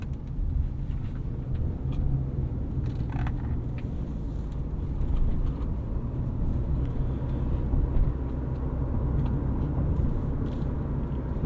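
Inside a 2022 Subaru Crosstrek Sport with a CVT, a steady low road and engine drone fills the cabin, with occasional light creaks and rattles over the constant rumble.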